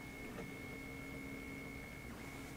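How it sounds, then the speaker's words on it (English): A 3D printer printing a case for an Orange Pi 1 whirs quietly with steady stepper-motor tones and faint shifting hum against a low room background. "Okay, so it's printing a case for the Orange Pi 1 here."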